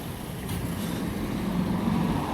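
C2 bus in Cirencester heard as a steady, moderately loud road rumble of a heavy vehicle going by, with no talk over it.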